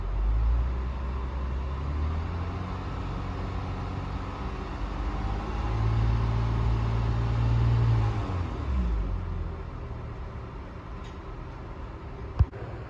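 A 2004 Honda Odyssey engine idles steadily, then climbs to a higher rev held for a few seconds before dropping back to idle, close and continuous, with a single sharp click near the end.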